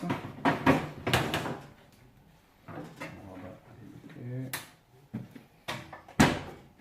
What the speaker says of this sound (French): Nous remettons la porte du four en place.